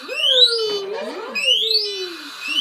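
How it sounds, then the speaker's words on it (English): A loud electronic fire alarm sounds with warbling, sweeping tones, close and continuous, briefly broken by a muffled noise in the middle. "here's another loud one that you may hear. There's a loud beep"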